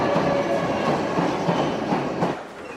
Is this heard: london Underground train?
yes